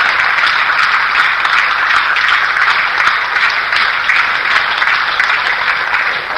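Large audience at a business leadership event claps loudly and continuously, a dense, unbroken wash of applause with no talk over it.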